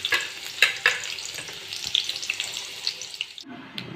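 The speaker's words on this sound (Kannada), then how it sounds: "ಈರುಳ್ಳಿ ಹಾಕ್ತಾಯಿದ್ದೀನಿ." Onion frying in oil for a potato palya on a dosa pan, a steady close sizzle with a few sharp clicks and scrapes, cutting off abruptly near the end.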